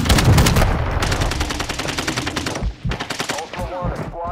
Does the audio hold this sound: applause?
no